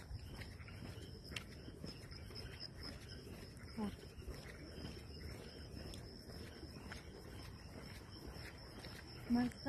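A steady chorus of night insects and frogs chirping, with a high continuous trill over scattered croaks and a faint voice in the distance.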